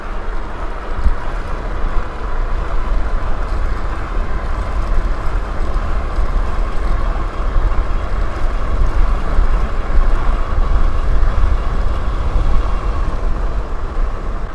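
A DUOTTS S26 dual-motor electric fatbike with 26-inch tyres rides over gravel, giving a steady, loud rumble of tyre crunch and wind roar that holds evenly throughout with no talking.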